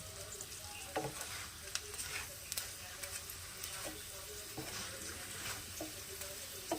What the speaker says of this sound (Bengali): আমি সাদা তেল দিয়েই পরোটাগুলো ভেজেছি